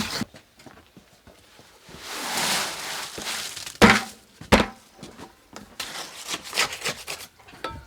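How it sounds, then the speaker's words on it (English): Trowel spreading and flattening mortar for a brick stove base, heard as a rough scraping rasp that swells and fades, broken by a few sharp knocks and taps, close and fairly loud with no talk. "We spread the mortar evenly and flatten it out to make sure that we get a smooth, level finish."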